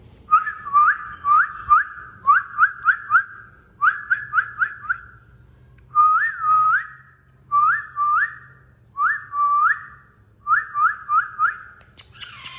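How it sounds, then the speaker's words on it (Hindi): A person whistles to call an Alexandrine parrot, repeating short rising two-note whistles in quick bursts with small pauses between them, loud and close. "तो फिलहाल मैं सीटी ही मारकर बुला रहा हूं"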